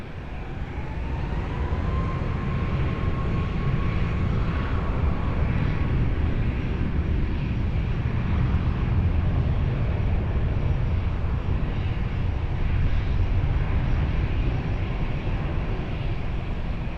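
An airliner takes off from the runway at Lisbon Airport, its engines producing a loud, steady broadband roar that holds for the whole stretch, with a faint rising whine near the start.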